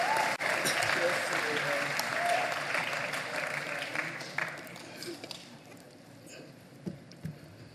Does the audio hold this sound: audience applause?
yes